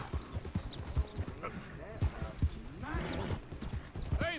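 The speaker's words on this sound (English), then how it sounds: "that's a nice horse indeed" Horse hooves clip-clop in a steady walking rhythm in the game Red Dead Redemption 2, close by, with someone talking over them and a brief whinny.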